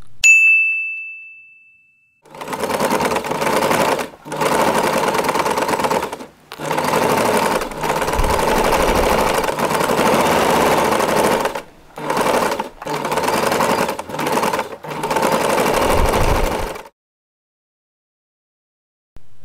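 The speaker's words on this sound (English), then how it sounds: "Secure it by sewing this part in place." A sewing machine stitches the side of a fabric handle pouch in several loud, close, steady bursts separated by short pauses, after a brief ding at the start.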